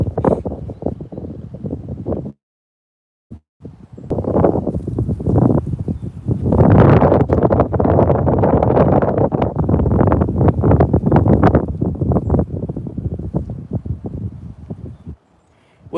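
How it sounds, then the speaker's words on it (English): Strong outdoor wind buffets the microphone in heavy, roaring gusts trackside. One gust cuts out briefly, then the wind grows louder and steadier before easing. "Wind just picked up real bad,"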